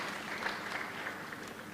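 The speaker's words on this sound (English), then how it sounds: "Also, a clap for him." Brief, fairly faint applause from a small group at a conference in Kampala, a short patter of clapping.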